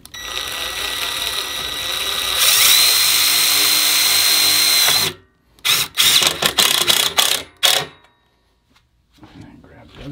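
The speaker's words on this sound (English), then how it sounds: "using the black self-tapper screws that come in the kit, you're gonna sink two in the back first." Power drill driving black self-tapping screws into a DIY wooden chair, two long whirring bursts followed by several short choppy bursts of drilling, close and loud.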